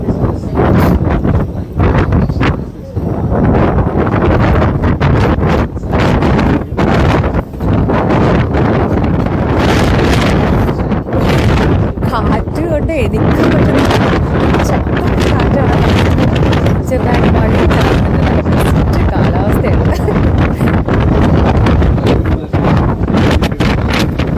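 A Thames river cruise boat moves through wind in London, with steady, loud buffeting wind noise on the microphone and a low rumbling drone continuing throughout.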